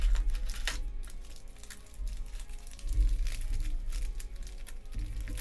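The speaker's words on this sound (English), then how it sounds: "So we're going to do a little shuffle up here." Yu-Gi-Oh 5D's Extreme Victory 1st edition booster packs are shuffled by hand, giving dense crinkling foil rustles and soft slaps in a continuous close-up flurry, quiet overall.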